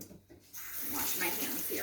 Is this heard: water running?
yes